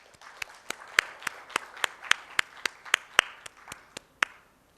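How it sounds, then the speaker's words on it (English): Applause for a guest welcomed on stage at an insurance conference in a Mumbai hotel, heard as crisp, fairly sparse claps in a steady, even rhythm that stop after about four seconds, with no talking over them. "Can we please welcome him on the stage with a loud applause?"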